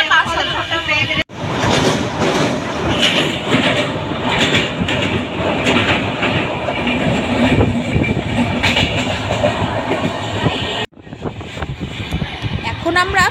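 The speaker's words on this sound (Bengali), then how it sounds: "এক্সপ্রেসটা পাস হলো।" Howrah–Ernakulam Express rushing past on the rails, a loud, steady roar of wheels and carriages with rhythmic clatter lasting nearly the whole stretch, cutting off abruptly near the end as the last coach clears.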